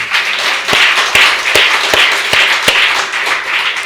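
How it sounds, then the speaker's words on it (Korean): A church congregation claps together during a sermon, a dense burst of applause with several sharp, loud, roughly evenly spaced claps standing out, close and without talk. "박수 한번 칠까요?"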